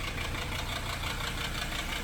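Mercedes 300SD diesel engine idling under repair, a close, continuous rough clatter with a steady knocking rhythm and no voices.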